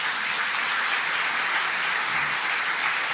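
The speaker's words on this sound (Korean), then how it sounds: "이분들도 좀 박수 좀 해주세요." A church congregation applauding: a steady, even wash of many hands clapping at moderate volume that continues without a break, with no talking over it.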